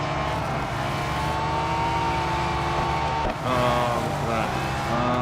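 Racing cars roar around a track in the mobile game Real Racing 3, a sustained engine whine shifting pitch as they accelerate and brake, with someone talking briefly over it.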